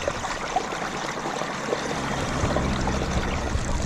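Spring water rushing out of an old pipe, a steady broadband gush of running water that holds level and continuous throughout, close by with no voices.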